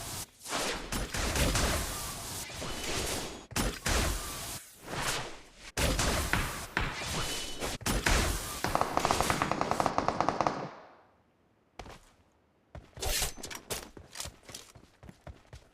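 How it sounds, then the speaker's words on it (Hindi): Gunfire in the BGMI mobile battle game: rapid automatic bursts and single shots repeat loudly in clusters, with a brief quiet gap before the firing resumes. "जैसा कि आप लोग देख ही सकते हैं कि सामने से अपन को फायरिंग के साउंड्स आते हैं"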